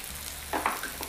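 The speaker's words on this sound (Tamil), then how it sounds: "இந்த மசாலா எல்லாமே போட்டுட்டு நல்லா வதக்கி விடுங்க" Chilli powder, coriander powder, turmeric and garam masala stirred into onions and tomato in a pan for soya keema, with a few short scraping stirs over a low, quiet sizzle.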